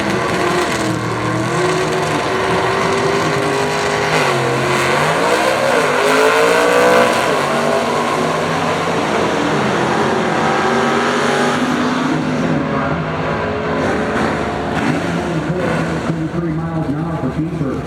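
Pontiac drag race cars launching side by side at the Pontiac Grand Nationals in Norwalk, Ohio, with loud engine roars and rising revs fading down the strip as an announcer talks over the track noise.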